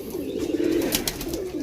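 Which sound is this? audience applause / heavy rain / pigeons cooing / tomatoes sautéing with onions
pigeons cooing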